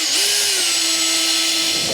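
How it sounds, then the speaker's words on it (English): Power drill boring a 10 mm bolt hole in the body of a Classic Mini while seats and roll bars are fitted, one steady high whine held close and loud for nearly two seconds. "So let's drill that."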